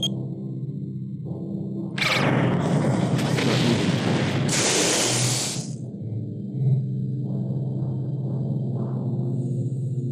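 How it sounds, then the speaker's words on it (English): Spaceship rear guns firing in the space combat game Noble Armada: Lost Worlds, a loud sustained burst of booming, crackling gunfire lasting several seconds over a steady low engine drone, then dropping back to the drone. "Let's use my rear guns, just for fun."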